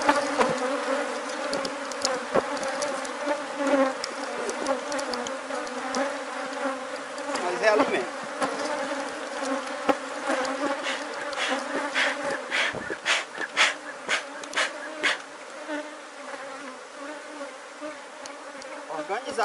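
A honeybee swarm drones around hive frames in a dense, continuous buzz that stays loud and close, with individual bees flying near now and then.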